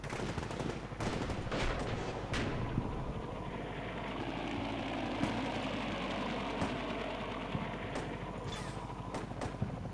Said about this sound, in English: So the enemy's kind of belatedly opening fire here.